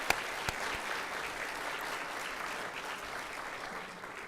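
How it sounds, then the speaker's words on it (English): An audience at a teaching excellence awards ceremony applauds the county's teachers, opening with a couple of sharp individual claps before settling into a broad, sustained wash of clapping that tapers slightly at the end. "let's give all the teachers in Humboldt County a round of applause"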